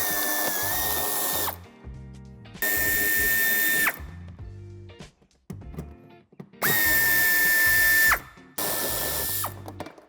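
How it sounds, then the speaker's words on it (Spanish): A power tool backs out a 10 mm head screw holding the bumper corner of a 2016-on Toyota Proace II van, fitted for a tow hitch. It whirs in four loud, close bursts separated by short pauses, with ratcheting clicks. "Aquí tenemos el tornillo que tenemos que quitar."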